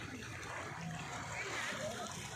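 Splashing and sloshing of someone swimming in the sea off Leyte, fairly faint and continuous, with people talking over it.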